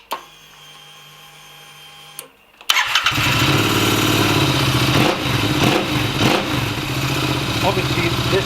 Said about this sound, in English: I'll start it up and let you hear it